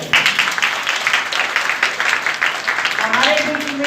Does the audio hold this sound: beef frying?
no